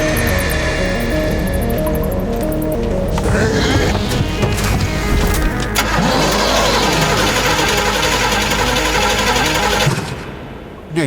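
A car engine cranks and catches, then runs with rising revs and a rough, loud mechanical roar that cuts off abruptly near the end.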